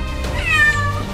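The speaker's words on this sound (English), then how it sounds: "The rescuers in St. Petersburg, Russia, rushed to help a cat that somehow had got stuck in a car wheel." A trapped cat stuck in a car wheel in St. Petersburg, Russia lets out a single loud, close, drawn-out plaintive meow.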